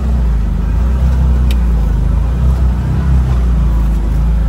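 A vehicle climbs a wooded hill in low gear, its engine a loud, steady, close rumble that holds throughout with no break.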